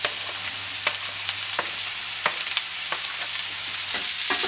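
Onions fry in a pan with a loud, continuous close sizzle, and a spatula stirs them now and then, clicking and scraping against the pan. No one speaks.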